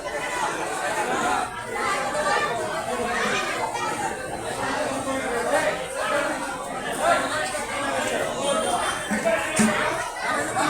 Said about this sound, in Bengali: যাত্রীদের কি ভিড় গাড়িতে একটু দেখাবার চেষ্টা করছি